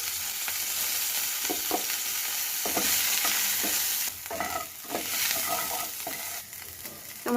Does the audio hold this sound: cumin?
yes